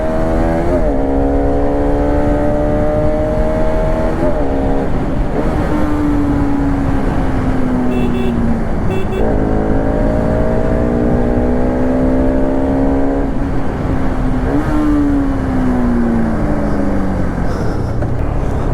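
A Bajaj Pulsar RS200 BS3 motorcycle, eight years old, pulls hard to overtake a car on the road, its engine note climbing and dropping through gear changes over constant loud wind rush.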